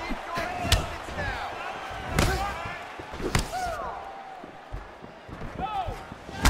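Punches and kicks land in a UFC 4 video game fight between Bruce Lee and a Thai fighter. Several heavy, punchy thuds hit at intervals under excited commentator talk.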